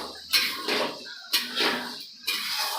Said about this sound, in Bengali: এবার মশলাটা আস্তে আস্তে কষাতে থাকবো।